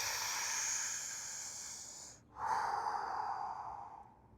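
A slow, close breath drawn in and out during a gentle stretching routine, a long hissing exhale, a short pause, then a deeper airy inhale, soft and near with no talking.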